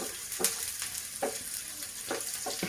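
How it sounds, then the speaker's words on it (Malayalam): Curd goes into a hot pan and is stirred, giving a soft, continuous sizzle with a few scraping strokes of the spoon at irregular intervals, close and fairly quiet. "തൈര് ഒഴിച്ചാൽ മതി. ഇതങ്ങോട്ട് ഒഴിച്ച് ഇളക്കുക."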